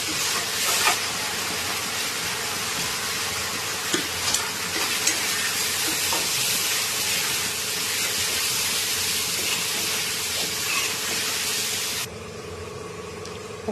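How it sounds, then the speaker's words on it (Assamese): Ground tomatoes fry in a pan with salt and turmeric, giving a loud, constant hissing sizzle with intermittent stirring clicks, then dropping abruptly to a quieter simmer near the end. "এইকেইটা গোটেইখিনি ভালদৰে মিক্স কৰি নিমখ দি হালধি দি পেলাই ধুনীয়াকৈ ভাজি ল'ম মই।"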